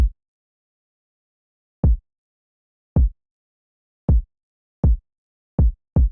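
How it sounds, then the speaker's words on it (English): Sparse, punchy kick drum hits in a trap beat, seven short thumps spaced unevenly across a few seconds with silence between, played alone. "Very simple kick pattern."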